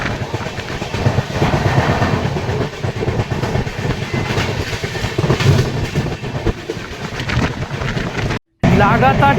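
Rupasi Bangla Express running at good speed past Uluberia, a loud continuous rumble with rhythmic clickety-clack of wheels over rail joints, a brief dropout near the end, and voices heard over it.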